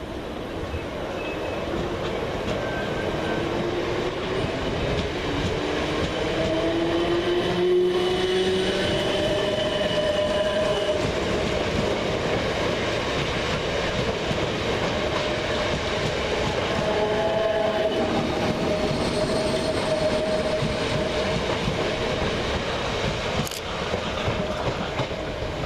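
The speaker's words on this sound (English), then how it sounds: "455-701 and 455-852 depart with the 1014 South Western Railway service from London Waterloo" A pair of South Western Railway class 455 electric trains pull out of Surbiton station with a steady rolling rumble, wheel clatter and intermittent squealing tones, loud and close throughout.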